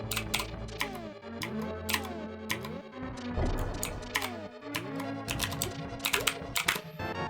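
Rapid computer keyboard typing during play, a steady close clatter of many key presses in quick irregular bursts.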